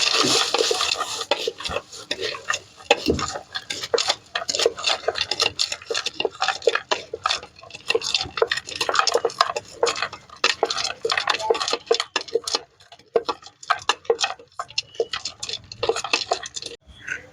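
A spoon stirring and scraping Mumbai-style bhel puri with coriander in a bowl, steady quick clinks and crunchy rustles going on for the whole stretch, close up, with no talk.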